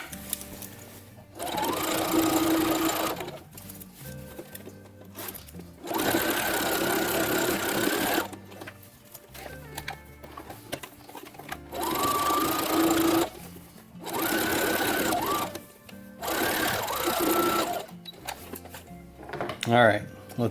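Sewing machine running a straight stitch along the edge of a zipper on a Star Wars jumpsuit, loud bursts of rapid mechanical whirring lasting a few seconds each, separated by quieter pauses with light handling noise.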